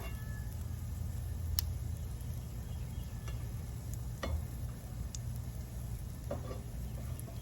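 Pancake batter frying on a hot griddle: a steady, close, soft sizzle, with a few faint clicks and taps from utensils now and then and no talking.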